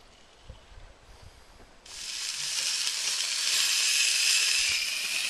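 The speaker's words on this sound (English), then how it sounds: "Searing up the fresh salmon of the day." Fresh salmon searing in a hot pan outdoors in Alaska, starting with a quiet low background and then bursting into a loud, steady, bright sizzle that keeps building and holds to the end.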